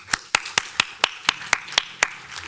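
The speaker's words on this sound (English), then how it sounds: "If you'll join me in giving a round of applause to the candidates." At a Bloomington city council candidate forum, a single nearby pair of hands claps about nine times in an even, brisk rhythm, each clap crisp and distinct with quiet gaps between.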